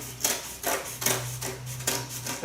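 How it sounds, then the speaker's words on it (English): Scissors snip through cured fiberglass cloth trimmed close to wood on a Bayliner Bowrider 175 ski locker, three crisp evenly spaced cuts over a low steady hum. "you can take a pair of scissors and just cut as close to the wood as possible"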